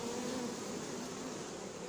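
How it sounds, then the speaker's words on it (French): A dense, steady buzzing of a honeybee swarm gathered under cardboard, faint and continuous with no other sounds. "Il y a les abeilles sous le carton"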